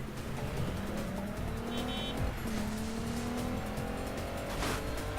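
Tires squeal repeatedly as a heavy car slides in the driving game Wheelman, with long rising and falling screeches over a continuous engine roar and no speech.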